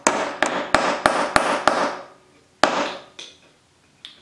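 A lightweight resin hammer strikes a regular nail into a piece of pine, with six quick evenly spaced sharp knocks, then a pause, one harder blow and two fainter taps, each crack decaying fast, close up and without talk.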